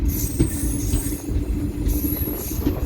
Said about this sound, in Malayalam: അങ്ങനെ ലക്കടിയിൽ നിന്ന് നമ്മൾ വീണ്ടും ട്രെയിൻ പുറപ്പെട്ടു